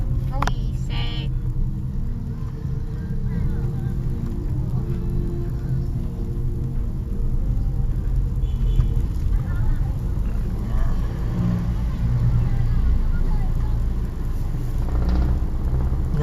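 Heavy street traffic crowded with jeepneys in Caloocan, Sangandaan, makes a constant low engine rumble and road roar. Occasional sharper clicks and horn-like bursts sit on top, and voices murmur faintly in the background.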